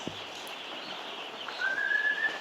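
Broiler day-old chicks in a brooding house of about three thousand birds give one clear, drawn-out peep that rises slightly, over a steady background hum.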